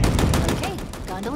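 Sentinel Beam weapon fire in the video game Halo Infinite: a rapid, pulsing, energetic burst that repeats in quick rhythm throughout, loud and close with a sweeping tonal whine as it continues.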